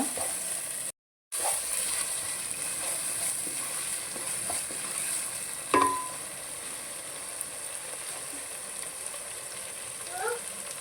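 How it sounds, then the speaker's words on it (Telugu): Masala brinjal curry frying in oil while being stirred, a steady soft sizzle through the whole stretch with a brief dropout near the start and a few faint scrape knocks of the spoon against the pan. "పెరిగేసుకోండి బాగా కలుపుకోవాలండి ఆయిల్ అనేది తేలాలన్నమాట"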